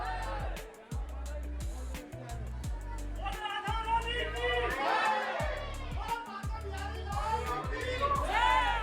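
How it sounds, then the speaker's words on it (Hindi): Dense crowd at Banke Bihari temple in Vrindavan, with many voices chattering and calling out close by, including children, over a steady low rhythmic thrum. "और बांके बिहारी मंदिर में बहुत रश था।"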